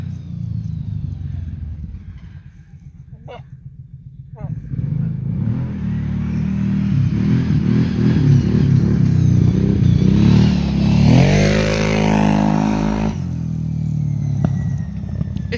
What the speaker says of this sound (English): hears the four-wheeler, but doesn't know where it's at.